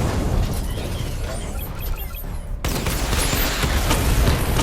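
The Batmobile fires a missile barrage in Batman: Arkham Knight, a dense string of loud bursts and booming pops with an abrupt surge partway through, set against mechanical battle noise.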